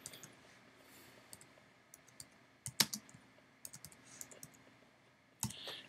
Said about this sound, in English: I'm just going to start typing in the text that I want to add.